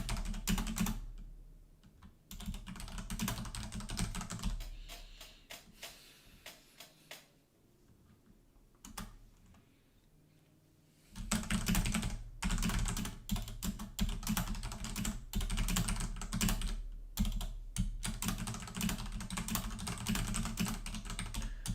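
Steady computer keyboard typing, close and crisp with rapid clattering keystrokes, pausing into near quiet briefly before resuming in fast, continuous bursts.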